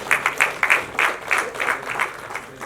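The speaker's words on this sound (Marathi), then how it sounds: "एकदा जोरदार टाळ्या मोहसिन खान यांच्यासाठी" Audience applause at a film cast reunion party, a steady round of many hands clapping, fairly close and loud, with no speech over it.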